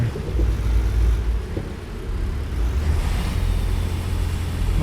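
A truck engine in American Truck Simulator straining uphill, a steady low rumbling drone with a thick, heavy tone that holds constant throughout with slight swells.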